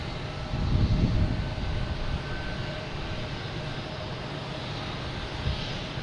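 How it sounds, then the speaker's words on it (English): A Delta airliner takes off at Boston Logan Airport, its jet engines giving a steady, moderately distant roar that swells early, then holds as a broad rumbling hiss. "And next taking off is Delta Flight 122"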